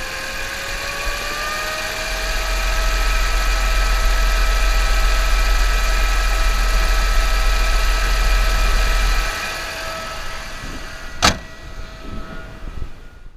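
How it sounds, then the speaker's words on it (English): An Audi A6 Allroad idles steadily while its radiator fan whirs loudly, a low engine drone under a constant mechanical hum that drops off near the end before a sharp click. "As soon as I start the car, I hear the radiator fan go on right away."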